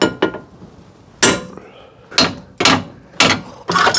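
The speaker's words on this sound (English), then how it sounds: "The old-fashioned way being a big lump of metal and a big hammer." A big lump of metal is struck with a big hammer during a Smart ForTwo 451 front spring and shock absorber job, producing five or six loud, sharp clanging blows at irregular intervals, close up.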